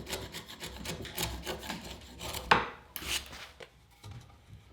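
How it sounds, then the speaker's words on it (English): A hammer drives a chisel into a wooden post to clear waste for a lap joint. Close, irregular thuds and knocks mix with scraping and paring sounds, and a sharper metallic strike stands out midway. "I use a hammer to remove the bulk of the material and then a sharp chisel"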